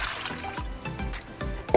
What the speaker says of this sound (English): So now, the water I'm gonna put in this bowl.